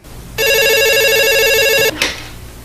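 A landline telephone rings once with a loud, close electronic trill lasting about a second and a half, cut off abruptly by a short click.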